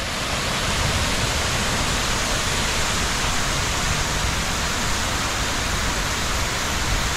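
A large riverside fountain at the Jacksonville Riverwalk shoots about 17,000 gallons of water a minute some 100 feet into the air, heard as a steady, loud, dense roar of falling spray with no breaks.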